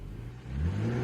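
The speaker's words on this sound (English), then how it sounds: "Punch the starter button, get ready to set off" A BMW 2 Series Coupe engine catching and revving, a low rumbling idle that swells into a firmer, rising rev within about a second, close and fairly loud.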